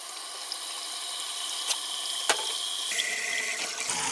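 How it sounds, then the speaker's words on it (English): Cold tap water runs steadily into a container holding Irish sea moss, a continuous broadband hiss of flowing water with a few small splashes and a shift in tone as the container fills, close and alone. "Now what I will do is I will actually fill it up with cold water."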